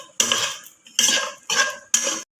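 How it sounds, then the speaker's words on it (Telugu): Figs (anjeer) frying in ghee in a pan, heard as four close metal scraping strokes of a utensil against the pan, each separated by a brief pause, with no talking. "ఈ అంజీర్ని కూడా ఫ్రై చేసుకొని మిక్సీ చేసుకోవాలి."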